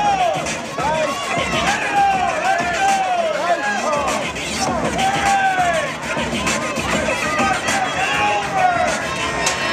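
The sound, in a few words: crowd cheering at a race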